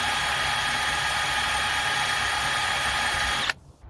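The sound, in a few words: drilling out a seized screw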